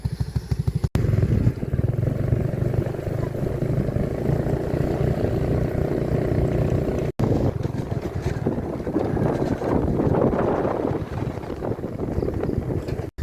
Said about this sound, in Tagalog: sasakyan kong motor